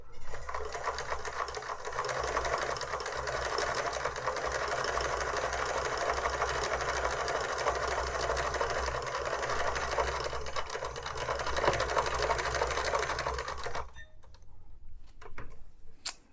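A vintage Pfaff 360 sewing machine runs a zigzag stitch, a steady fast mechanical whir and ticking that carries on for about fourteen seconds, then stops.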